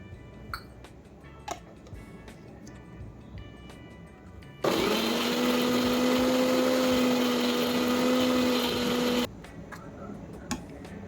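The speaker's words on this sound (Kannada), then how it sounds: "ಮಿಕ್ಸರ್ ಮಾಡುವಾಗ ಸ್ವಲ್ಪ ನೀರು ಹಾಕಿ ಮಿಕ್ಸರ್ ಮಾಡಿ." A kitchen mixer grinder blends a green chutney of coriander, mint, garlic, cumin, green chilli, salt and a little water. It gives a loud, steady motor whir for about four seconds, with faint ticks and clinks before and after.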